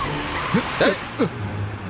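A car in a chase brakes hard and skids to a stop, giving a few short, loud tire squeals over a steady engine rumble.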